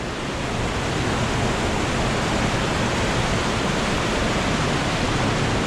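Waterfalls near the source of the Soča river in a small canyon, a loud, steady roar of falling water that stays dense and constant throughout.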